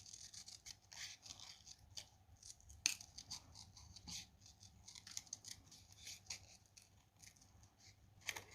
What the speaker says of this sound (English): Get my snips. And we'll cut this out.